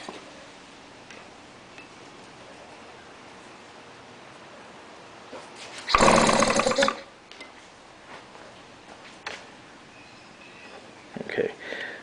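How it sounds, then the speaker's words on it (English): An Evinrude or Johnson outboard motor's flywheel is spun by hand during an ignition spark test, giving one loud, brief whirring burst in the middle, followed later by a few faint ticks against a quiet background. "I'm just going to turn the flywheel, okay, and see if we can get some type of spark."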